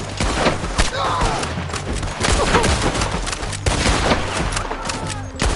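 Gunfire crackles in Red Dead Redemption 2, a rapid fusillade of close shots and scattered cracks under shouting voices throughout.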